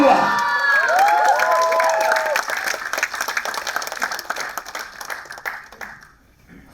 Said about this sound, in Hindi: Now let's give a big round of applause for one and only हवा।